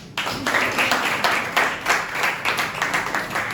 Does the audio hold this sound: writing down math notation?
no